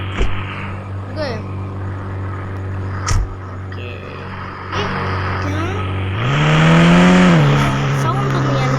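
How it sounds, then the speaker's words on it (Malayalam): A luxury car driven slowly, its engine humming low and steady, swelling louder near the end with tire squeal and rising revs; clicks and small noises sit around it. "എന്തായാലും ഡ്രൈവ് ചെയ്ത് നോക്കണ്ടേ വണ്ടി"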